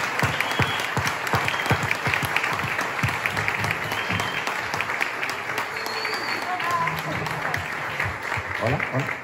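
An audience at a board game festival gala show in Barcelona applauds steadily and loudly for several seconds, with dense clapping that carries throughout and a voice or two faintly mixed into the crowd noise.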